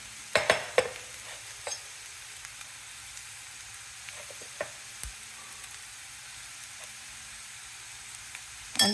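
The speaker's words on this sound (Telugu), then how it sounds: "మనం నానబెట్టుకున్న పోహాని మిక్స్ చేయండి. మంచిగా మిక్స్ చేయండి." Soaked poha is stirred in a frying pan with turmeric and salt, giving quiet, scattered scrapes and taps of a spoon against the pan over a faint background hiss; sounds are soft and intermittent with no speech.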